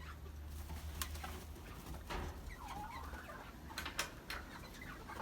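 Young chickens in a coop give soft, scattered clucks and coos, fairly quiet and close, with a few brief sharper calls over low background rumble.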